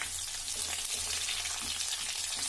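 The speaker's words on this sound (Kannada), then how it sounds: "ಚಟಪಟ ಅಂತ ಸಿಡಿಯುವಾಗ ಅದಕ್ಕೆ ಕರಿಬೇವನ್ನು ಸೇರಿಸಿ ಹೆಚ್ಚಿಟ್ಕೊಂಡಿರುವಂಥ ಒಂದು ಕಪ್ ಈರುಳ್ಳಿ ಮೀಡಿಯಮ್ ಸೈಜು ಗೋಲ್ಡನ್ ಬ್ರೌನ್ ಬರೋವರೆಗೂ ಫ್ರೈ ಮಾಡ್ಕೊಳ್ಳಿ" Medium-size chopped onions, one cupful, frying with curry leaves in hot oil, a continuous close hiss and crackle with soft stirring underneath, nothing spoken.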